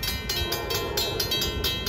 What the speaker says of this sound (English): Think it's an unrestricted horn on the 615 to Pearl River Express train.